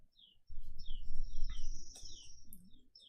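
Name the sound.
birds chirping in the background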